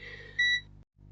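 A multimeter switched to DC voltage gives a single short electronic beep over a low background hum, close and brief, with no speech.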